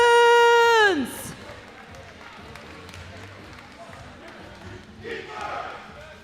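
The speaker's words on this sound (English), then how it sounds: "So they were just giving some love to the Gatekeepers, doing a little cheer for them." A quadball crowd at a 2013 tournament cheers for the St. Louis Gatekeepers in a brief group shout near the start, followed by fainter crowd noise and another rise of cheering toward the end.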